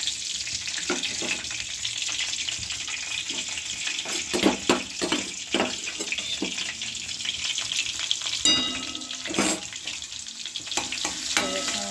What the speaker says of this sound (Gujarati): હવે આપણે લસણ બધું નાખી દઈશું વઘારમાં